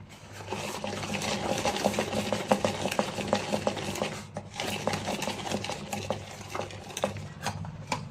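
Egg omelette batter with finely chopped green chillies being blended in a mixer, a steady whirring drone with rapid rattling texture for about four seconds, a brief pause, then whirring again.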